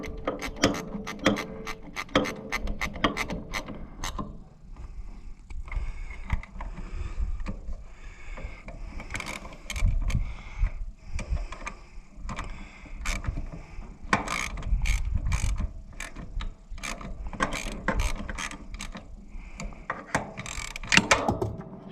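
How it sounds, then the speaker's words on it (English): A ratchet wrench tightens bolts on the water pump of an Oliver 60 tractor, giving rapid clicking runs of the pawl in repeated bursts with clinks of metal and handling between them. "we best be tightening some others first before we really wrench it down."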